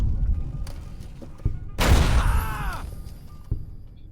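A grenade blast inside a casino in the video game Fallout New Vegas, with a sharp burst followed by a ringing, descending sweep of sound, and a few scattered shots and thuds before and after.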